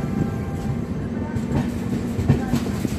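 A train rumbles steadily with faint clatter at Gomoh railway station, a short, even stretch of rail noise with a little background voice.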